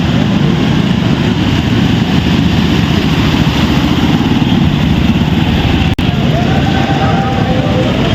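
Motorcycle engines of bikers crossing a flooded road in a lake city drone loudly and steadily throughout, with rushing water mixed in and a brief dropout near the end.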